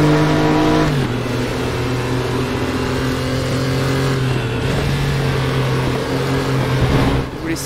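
A Porsche 911 Carrera Cup six-cylinder engine in the racing game Raceroom howls loud and continuous, its pitch stepping with gear shifts and climbing under acceleration, alone without talk.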